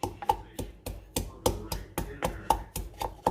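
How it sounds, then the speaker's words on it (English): Five fresh garlic cloves being mashed, a steady series of sharp, evenly spaced thumps and crushes, close and distinct, about three to four per second. "So what I'm doing now is I'm mashing up some fresh garlic cloves."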